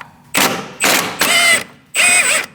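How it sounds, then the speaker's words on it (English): A socket wrench with a 17mm socket loosening the top sway bar link nut on a 2000-2006 Mini Cooper, four loud close bursts of ratcheting and grinding separated by short pauses. "Using a 17mm socket, we're going to remove this nut on our top sway bar link"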